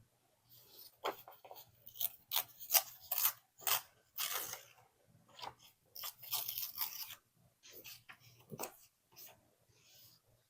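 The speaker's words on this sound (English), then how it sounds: "just tear that and just do like something like this" Paper is torn by hand for a scrapbook junk journal, a series of short crisp ripping bursts close by, some quick and sharp, others drawn out, separated by brief quiet gaps.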